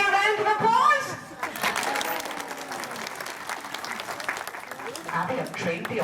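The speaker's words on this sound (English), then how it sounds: "it can be a round of applause" At a safari park animal show, crowd applause breaks out after a brief bit of speech and rolls on as a steady, fairly loud patter before easing, with some voices mixed in underneath.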